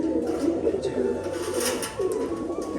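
Pigeons cooing close by in a home loft on a rainy day, with low, rolling throaty coos repeating over someone talking in the background.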